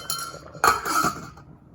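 A metal or glass lid goes onto a pan of cooking shrimp fried rice, giving a couple of close clinks and a short rattle before the sound settles.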